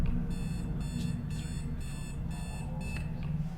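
A puzzle in the video game Trapped sounds six short, bright electronic beeps at a regular pace, clear and fairly close above a constant low hum.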